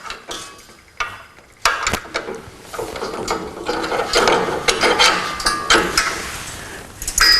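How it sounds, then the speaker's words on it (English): Ratcheting, clicking mechanical noise as the rim clamp on a power-drive drum rotator (drum tipper) is lowered beneath a drum, with a run of close metallic clicks and clanks over several seconds. "We can then lower the rim clamp."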